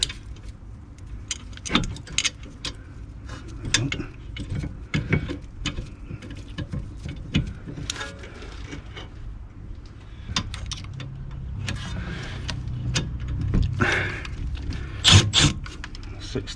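A 16 mm spanner working the rear brake caliper bolts on a Range Rover Evoque, giving a series of close metallic clinks, ratchety clicks and jangles scattered irregularly over low garage background.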